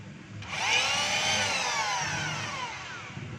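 A DeWalt D25042 rotary hammer spins up in drill mode running in reverse, giving a loud, steady motor whine that holds for about three seconds and eases slightly toward the end.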